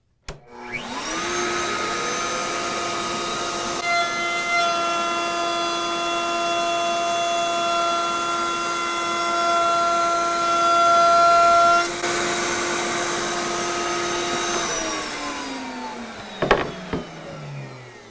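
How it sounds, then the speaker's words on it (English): A Bosch 1617 EVS router mounted in a Bosch RA1181 benchtop router table spins up to a steady high whine, runs with shop-vac suction roaring alongside, then winds down, followed by a few clunks. "It's just a router table."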